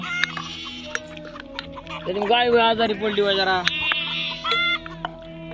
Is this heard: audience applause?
no